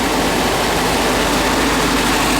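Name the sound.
1954 VW Beetle engine running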